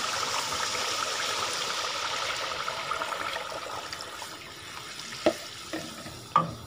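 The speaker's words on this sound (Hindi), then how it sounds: "पानी डाल के इसको हिलाना है।" Water stirred into beef masala with ghee in a cooking pot, a steady sizzling hiss with soft stirring scrapes, followed by two sharp clinks of a spoon against the pot near the end.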